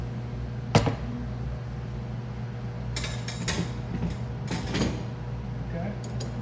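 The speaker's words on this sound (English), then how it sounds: "we're just going to put the front door on it." A front door being fitted onto a 2009 Taylor 8756 three-phase air-cooled soft serve ice cream machine, with a sharp metallic clunk early on and several lighter clicks and knocks over a steady low machine hum, speech faintly present.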